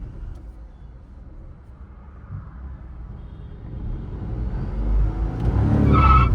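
A car climbing a steep uphill road is given too much accelerator, the engine revving louder and higher toward the end while the tyres scrub and squeal, close by.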